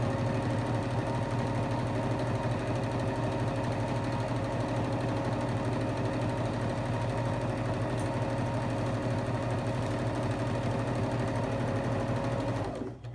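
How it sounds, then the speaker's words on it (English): A sewing machine stitching a fabric strip for a sock puppet, running at a steady fast, even mechanical hum and rattle for the whole stretch before stopping abruptly at the end. "Make sure your strip runs all the way through the machine so that it'll be sewed all the way to the end."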